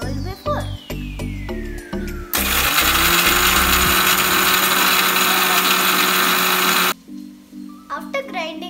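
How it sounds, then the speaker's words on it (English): A kitchen mixer grinder whirs loudly and steadily for about four and a half seconds as it grinds spice ingredients for a spicy buttermilk curry, with quieter clatter before and after. "I'm going to grind the ingredients which I just told before."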